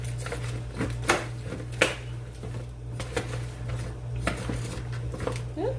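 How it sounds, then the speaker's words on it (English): Food tossed with extra virgin olive oil in a bowl, giving a series of light clinks and soft scraping knocks at an uneven rhythm, close by over a steady low hum. "we're just gonna give this a quick toss"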